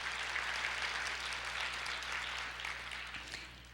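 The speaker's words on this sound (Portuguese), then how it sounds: "Vamos aplaudir ao Senhor e nos alegrar com a sua palavra." A church congregation claps together, dense steady applause that holds for several seconds and then slowly fades, heard from a short distance with no voices over it.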